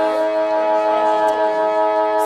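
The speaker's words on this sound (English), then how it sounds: "The siren sounds for quarter time here in the BFNL's match of the round" A quarter-time siren wails steadily at an Australian rules football match in the Ballarat league, Melton against Sunbury, a loud sustained tone filling the whole stretch with faint crowd noise beneath.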